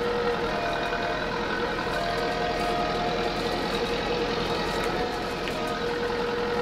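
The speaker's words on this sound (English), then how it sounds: "this is like the perfect little tractor to do this" A small open-cab tractor engine runs steadily and continuously at a close distance, holding an even idle-like drone without pauses while hay work goes on.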